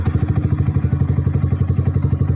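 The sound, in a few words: Yamaha R15 V3 motorcycle engine starting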